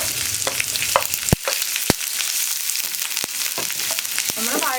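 Sliced onion, ginger, garlic and green chili hiss and crackle steadily in hot vegetable oil for a green peas paneer masala, with a few sharp clacks of a spoon against the pan and no talking.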